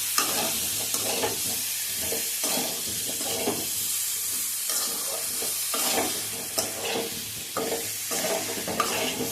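Katowa data labra with coriander powder stirred and sautéed in a pan: steady close sizzling with repeated scraping stir strokes throughout, no talk.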